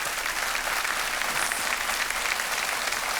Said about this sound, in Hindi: तालियां बजती रहे इनके लिए।